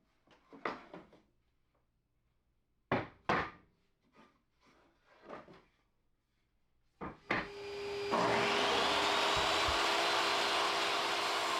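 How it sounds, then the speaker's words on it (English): Several woody knocks and handling bumps as 2x4 tabletop boards are set up, then a table saw starts and rips them in a loud, steady sustained roar that continues to the end. "On the table saw, I ripped my tabletop boards, the 23 and 3/4 inch ones to width."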